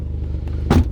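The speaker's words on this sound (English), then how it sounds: "Key in ignition. Straight into life" A cold Mazda MX5 mk1 engine catches with a brief low churn and a short rising burst as it fires into life, close by and alone.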